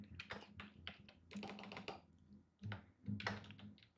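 Quick bursts of computer keyboard typing, with irregular clusters of soft clicks and taps, close but quiet.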